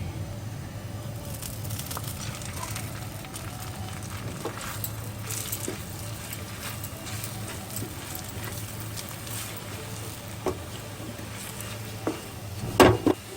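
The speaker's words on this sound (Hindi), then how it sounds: "इसको गैस कम पर ही भूनेंगे।" Besan roasting in ghee in a pan over low gas, stirred steadily, giving a soft continuous sizzle with light scraping and a few sharper clinks near the end.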